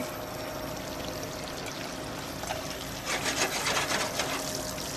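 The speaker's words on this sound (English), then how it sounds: "next thing is back onto the pot again, because we chuck our langoustines in" Langoustines tumble into a hot pot to fry in a Puglia kitchen, a continuous sizzling hiss that swells suddenly louder about halfway through as the shellfish hit the pan, with no talking.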